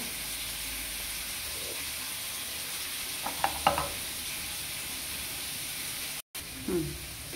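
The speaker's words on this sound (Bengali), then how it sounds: "লাউ আলু এদিকে ভাজা হবে" Bottle gourd and potato fry in a pan with a steady low sizzle, broken around the middle by a few louder stirring scrapes and one more brief stir near the end.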